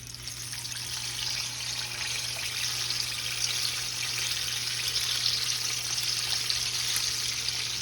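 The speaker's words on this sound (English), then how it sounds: "I'm gonna definitely fry them deep, y'all." Fried pies deep fry in hot oil with a steady, dense sizzle and bubbling that holds evenly throughout, close by, with no talking.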